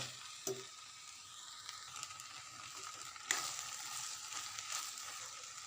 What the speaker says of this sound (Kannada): ಹಾಕಿ ಫ್ರೈ ಮಾಡಿ ಚೆನ್ನಾಗಿ.